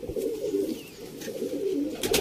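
Sialkoti fancy pigeons coo in a low, steady murmur through most of the stretch, close and moderately loud, with a few brighter rustles near the end.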